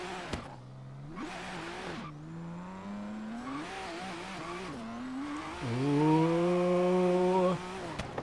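A modded Ford GT wheelspinning in the video game Forza Horizon 3, its engine revving hard in rising and falling sweeps with tire squeal, louder and higher toward the end, no talking.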